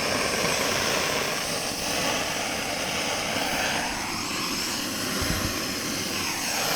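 A pressurised Tilley paraffin lamp, pumped up with a blocked jet that fires out the side, burns with a steady, loud broadband roar that holds unbroken throughout, with no voices.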